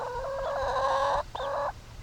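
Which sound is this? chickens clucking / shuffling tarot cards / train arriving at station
chickens clucking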